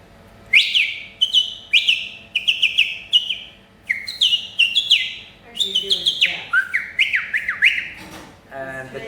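A man whistles an imitation of a thrush's song, a close, loud run of sharp repeated phrases and chirpy notes with short gaps between them.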